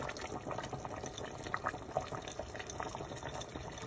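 Spaghetti sauce with soumbala seeds simmers in a pot in a Burkina Faso kitchen, giving a steady, close bubbling hiss with a few soft pops and no talk over it.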